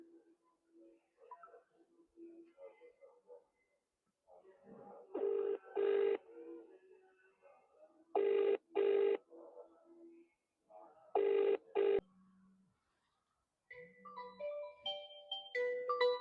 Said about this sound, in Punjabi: ਮੰਮੀ ਨੂੰ ਫੋਨ ਲਾਉਣੀ ਆ